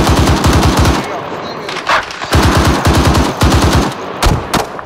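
A .50 cal machine gun in the Arma 3 military game fires in heavy rhythmic bursts, loud and close, with short pauses and a few single distant shots between the strings.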